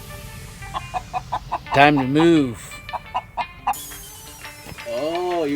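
A chicken clucks in quick repeated bursts with louder squawks while being caught for relocation on a homestead, close by, as a person talks over it.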